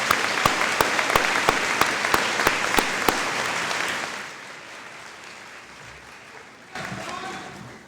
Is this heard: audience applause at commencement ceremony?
yes